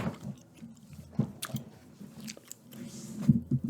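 Close, quiet gum chewing with soft wet smacks and crunchy bites in an irregular rhythm, recorded intimately for ASMR alongside a Final Fantasy Ultimania book, with a few faint crisp clicks between chews.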